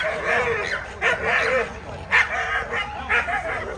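Pit monster dogs at a club training course bark in a series of sharp, repeated barks and yips close by, some overlapping, with occasional whimpering between them.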